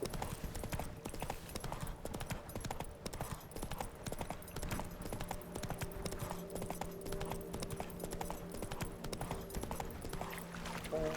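A horse gallops in The Witcher 3: Wild Hunt, rapid rhythmic hoofbeats continuing steadily for around ten seconds over quiet game ambience and music.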